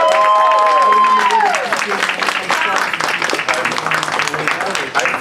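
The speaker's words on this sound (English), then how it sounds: "if we could have a small smattering of applause for Peggy" Audience applause for Peggy at a fan event, a dense crackle of clapping hands filling the room, with voices and cheering threaded through it from start to finish.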